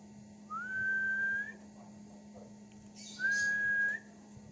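Two long, pure whistled notes from a male murai batu songbird of Medan stock, bred in Tulungagung, East Java, each rising slightly at the end, close and clear over a steady low hum.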